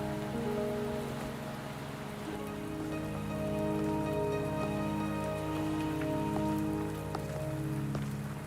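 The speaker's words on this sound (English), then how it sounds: "Are you trapped here by the rain?" Steady rain in the video game Wuthering Waves, a soft continuous patter over a sustained musical drone with low tonal layers, moderately quiet and even throughout, with no voices.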